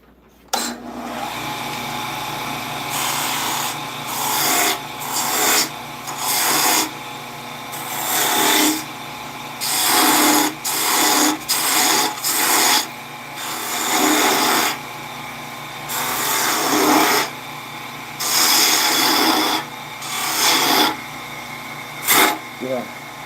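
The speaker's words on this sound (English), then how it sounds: "sharpened spindle is like butter through this pine" A sharpened spindle tool cuts pine wood in a workshop, producing repeated loud bursts of machine whirring and rasping with short pauses between passes, while people talk in between.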